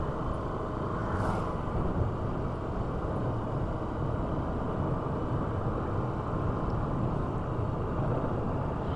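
Steady, continuous road and engine noise from a Suzuki Access 125 scooter on an evening ride, a dense broadband rumble with wind that holds even in level throughout, with no voices.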